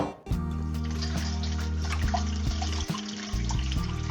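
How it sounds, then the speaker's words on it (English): Steady rush of tap water pouring into a huge stock pot for Caldo Gallego, a continuous close splashing fill with the pitch shifting as the level rises and one brief interruption near the end. "We're gonna fill it with water, not all the way"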